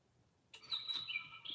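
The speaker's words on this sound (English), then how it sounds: "Oh boy, I hear you, bird." A single small bird chirps indoors, a faint, high, thin twittering call that starts abruptly after a quiet moment and continues for about a second, heard alone with no talking.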